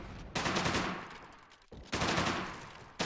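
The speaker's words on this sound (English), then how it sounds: "That Type 100 SMG pounding away behind the flanks." A Type 100 submachine gun firing in the strategy game Men of War: Assault Squad 2, two loud sustained bursts of rapid automatic fire separated by a brief lull, with another burst just beginning at the end.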